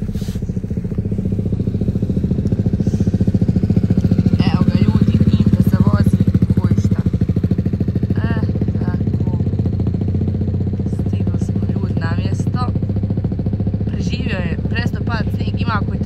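Motorcycle ridden in March in snow and rain, its steady engine drone running loud and continuous throughout, with people talking over it.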